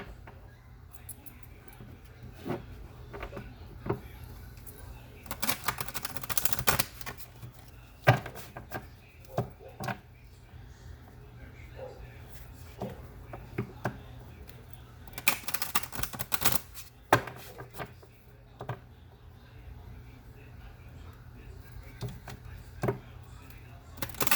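Oracle cards are shuffled and riffled close up in quick bursts of papery flicks and taps, with pauses between rounds.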